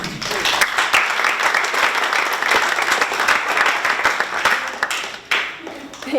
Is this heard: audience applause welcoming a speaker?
yes